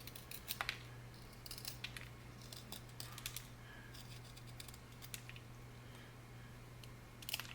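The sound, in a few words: knife sharpening a wood pencil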